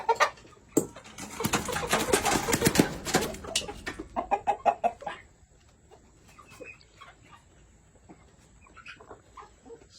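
Chickens cluck and squawk busily close by while pecking at feed and greenery scattered on the ground, loud and rapid at first, then thinning to sparse soft clucks.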